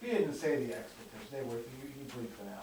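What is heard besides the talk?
None of the usual background noises is heard.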